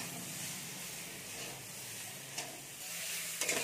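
Brinjal frying in a pan while being stirred, giving a steady close sizzle with soft scraping and a couple of brief clinks near the end.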